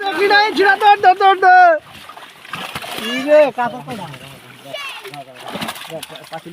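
Fish such as tilapia, silver carp and catla thrash and splash in a net as they are hauled from a village pond, wet sloshing bursts heard under loud talk and shouting from several people nearby.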